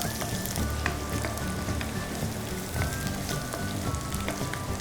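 Steady sizzling of garlic frying in a hot pan, a continuous crackling hiss with small pops throughout, close by and fairly loud.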